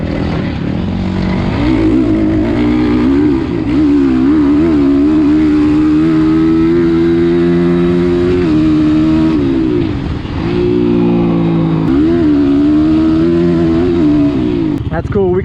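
A 2023 SSR Motorsports SR250 Chinese dirt bike fitted with a Lectron carburetor being ridden, its engine holding a steady, loud drone with repeated rises and dips in revs and some wind noise, close and continuous throughout.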